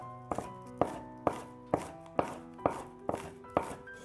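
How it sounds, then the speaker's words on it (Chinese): A knife chops a bunch of spring onions into small rings on a cutting board, eight crisp, evenly spaced thuds in a steady rhythm, close and clear with no talking. "这个时间准备1把小葱切成葱花"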